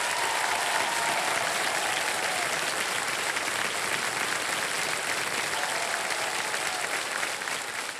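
Studio audience on a TV quiz show claps loudly and steadily for several seconds, a dense continuous applause that tapers slightly at the end.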